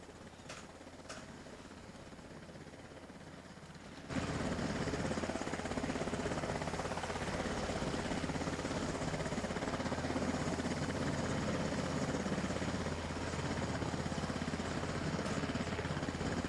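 Aircraft landing in the video game Arma: a steady, loud helicopter-like engine drone and rotor hum kicks in abruptly after a few quiet seconds with faint clicks, then holds constant to the end.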